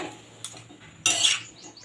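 Tomatoes being stirred in a wok, with a metal utensil clinking against the pan in two short bursts, the second a louder scraping rattle, over a faint background hiss.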